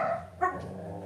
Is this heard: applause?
no